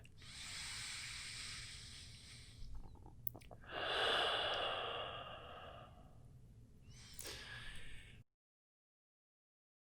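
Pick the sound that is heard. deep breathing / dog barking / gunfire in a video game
deep breathing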